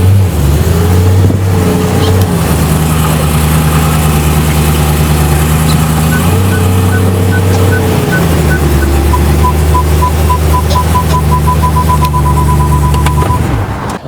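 A car idles and pulls away slowly in first gear over an iPhone 6 in a protective case on the ground, a steady close engine rumble with changing pitch, no voices.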